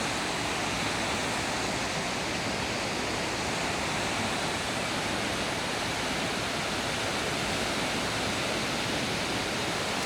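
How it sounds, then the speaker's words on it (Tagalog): Torrent of floodwater rushing through a deep river at Science Park, Cabuyao, Laguna, a loud, steady broadband roar that continues without a break and has no talk over it. "Dahil sobrang dami ng tubig ang dumadaan sa ilog na to ngayon."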